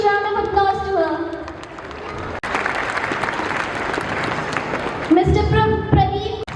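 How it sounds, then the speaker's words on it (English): Audience at a school science exhibition breaks into sustained applause, a steady wash of clapping between stretches of a speaker addressing the crowd over a public address system. "Please give a huge round of applause to her."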